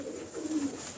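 A pigeon coos softly and close by in low, throaty murmurs while being held in someone's hands, with a faint background hiss.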